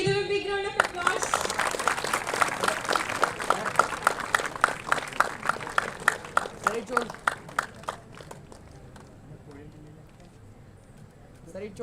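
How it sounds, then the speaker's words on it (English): An awards-ceremony audience at a closing event for an industry talk claps for prize winners called to the stage; the dense, rapid clapping starts abruptly, peaks early, and thins and fades out over about eight seconds, with speech-like murmur beneath. "Give them a big round of applause."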